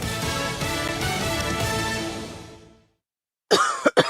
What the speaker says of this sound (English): I can't sleep with this cough.